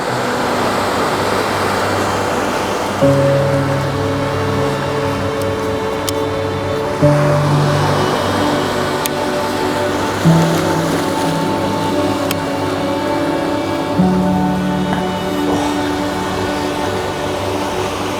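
Ocean waves wash onto a sandy beach in a steady, broad roar that runs the whole time, swelling gently every few seconds, with a low motor-like hum threaded underneath.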